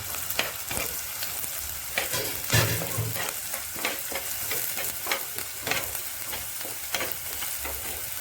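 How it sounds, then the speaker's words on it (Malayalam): Curry leaves and green chillies fry in a clay pot as a spoon stirs them, making repeated scraping strokes in a fairly even rhythm over a steady close sizzle, with no voices. "കൂടെ തന്നെ കറിവേപ്പിലയും പച്ചമുളകും ചേർത്ത് നല്ലത് ഗുണമൊന്ന് ഇളക്കി കൊടുക്കുക"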